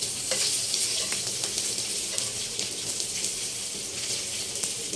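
Dumplings fry in a pan with too little oil, giving a steady close sizzle and crackle with faint stirring and scraping sounds throughout.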